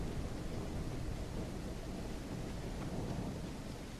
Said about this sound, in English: First time seeing rain in the game.